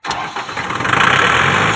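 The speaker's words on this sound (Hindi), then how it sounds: "ट्रैक्टर स्टार्ट करो, हम चले जाएंगे" A Kubota MU 5502 tractor engine cranks with a short burst and catches, then settles into a steady, loud, close diesel rumble.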